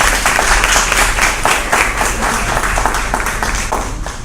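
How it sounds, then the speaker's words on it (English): Steady applause from a health summit audience, a continuous dense patter of many hands clapping loudly with no break for the whole few seconds. "Let's give Dr. Boyce another round of applause."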